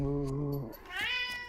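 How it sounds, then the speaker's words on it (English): A cat in the trailer for Spirit Whisker, a creepy Vietnamese folklore tale, gives one drawn-out meow that starts low and rises into a higher, strained wail, heard alone and fairly close. "It's the cat."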